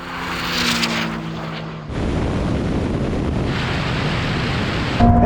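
A Ferrari SF90 and a Porsche 911 Turbo S launch side by side in a half-mile drag race, their engines building from a brief hum to a loud, sustained broadband roar of hard acceleration with rushing wind noise and no talking.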